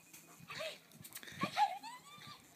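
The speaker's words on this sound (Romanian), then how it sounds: "câini" A dog on a rural farm with goats gives a few short, faint barks and yips, spaced irregularly over quiet surroundings.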